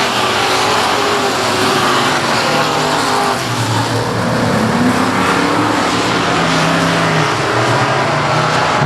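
Stock cars roar away at the green-flag start of a race at South Texas Speedway, a loud, continuous blend of engines accelerating together with some tire noise, close and dense throughout.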